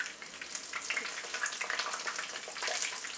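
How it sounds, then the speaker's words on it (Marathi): Chili pakoda fritters sizzle in hot oil in a kadhai, a steady bubbling crackle that runs throughout, close and fairly loud with no talk over it. "दोन्ही साईडून आपल्याला चांगला गोल्डन कलरवर फ्राय करायचे।"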